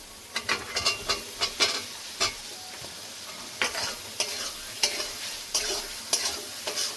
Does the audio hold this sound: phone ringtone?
no